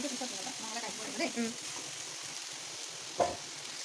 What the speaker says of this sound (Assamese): পিঁয়াজ আদা নহৰু তেলত ভাজি, কেঁচা গোন্ধ নোযোৱালৈকে ভাজি